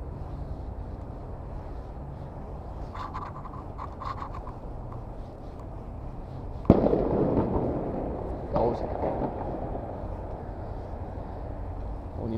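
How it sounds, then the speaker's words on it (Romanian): Fireworks crackle and thump over Bucharest just after New Year's Eve, with scattered pops at first and a louder cluster of bursts midway, heard from some distance against a steady background with faint voices. "Și-au terminat artificiile, se pare."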